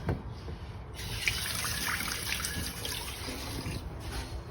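Water from a tap runs steadily over a cat water fountain filter being rinsed, a soft continuous splashing and trickling close by, with no voices.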